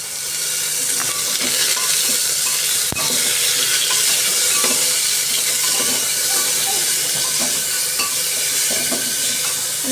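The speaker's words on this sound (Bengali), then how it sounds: "তার মধ্যে এই যে মশলাগুলো দিয়ে দিয়েছি এবার এক এক করে সব আমি এতেই একবারে নেড়ে চড়ে" Spices fry in oil inside a pressure cooker while being stirred, giving a close, continuous sizzle and hiss with scraping stirring sounds throughout and no talking.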